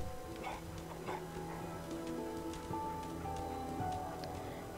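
A dog in the video game Fallout 4 gives soft, faint whimpers and small yips over quiet game ambience.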